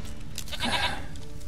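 A single goat in The Witcher 3: Wild Hunt bleats once, a short wavering cry heard close by over a low background hum.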